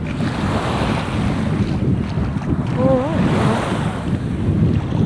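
Steady broadband roar of ocean surf washing onto a beach at Ocean Cay island, mixed with buffeting wind noise on the microphone, continuous and fairly loud throughout, with a brief spoken word near the middle.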